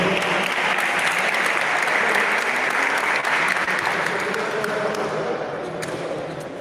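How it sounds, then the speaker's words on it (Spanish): A crowd at a weightlifting championship applauds steadily for several seconds, dense clapping that slowly fades toward the end. "Y un aplauso para todos ellos."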